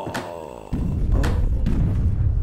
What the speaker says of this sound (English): Hear explosions.